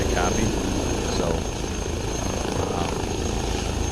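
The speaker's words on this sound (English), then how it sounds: "I've been flying this helicopter every day since I received it." An H160 helicopter flies in a flight simulator game, its steady rotor and engine drone carrying on at constant loudness throughout, with a voice talking over it.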